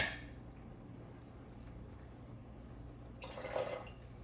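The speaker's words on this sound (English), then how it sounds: "I'm gonna put this with all these little pieces of orange and garlic into the jar with the sauce" Orange and garlic pieces with cooked carnitas slide into a jar of sauce, a faint quiet stretch ending in a brief wet splash and squish near the close.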